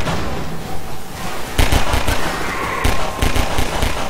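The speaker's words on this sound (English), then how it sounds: "When in doubt, pick up the machine gun and shoot the crap out of people." Machine gun fire in Half-Life 2, bursts of loud, close automatic shots that start suddenly after a quieter stretch and keep rattling in uneven volleys to the end.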